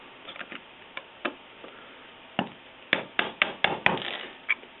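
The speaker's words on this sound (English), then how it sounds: "I'm going to use a flathead screwdriver and a small hammer" A small hammer taps a flathead screwdriver, chipping ballast away from the side of 3-rail O-scale model railway track: a scattered run of sharp, close metallic ticks, sparse at first and then quicker and louder in a cluster of about seven strikes.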